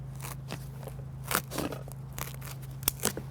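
Scissors cutting through material to make a windshield wiper part in an RV, a few crisp crunchy snips spaced a second or so apart, close and fairly quiet, with no talking.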